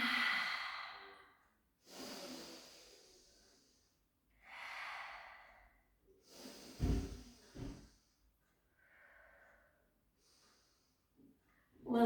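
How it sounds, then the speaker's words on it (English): Deep, slow breaths in and out during a seated calf and back stretching exercise for post-breast-surgery strength, balance and flexibility, several sighing exhales with gaps of quiet between them, close and fairly soft. "Take a few breaths in."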